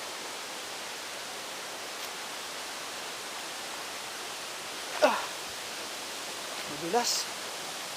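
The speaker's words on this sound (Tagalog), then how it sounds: "Ito na mga kabikers yung falls." Utod Falls pours as a steady broad rush of water, even and continuous throughout, with a couple of short voices rising over the roar.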